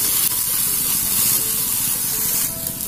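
Masala for a drumstick (murungakkai) dish sautéing in a pan, giving a steady, close hissing sizzle that holds evenly throughout with no talk over it.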